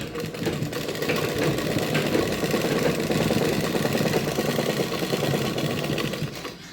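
Sewing machine stitching a kachali garment, running steadily and loudly for the whole stretch with a dense, fast mechanical chatter and no pauses.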